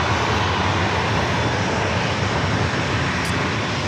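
United Airlines flight 2355, departing San Diego, gives a loud, steady jet engine roar that stays close and unbroken through the short stretch, with no talk.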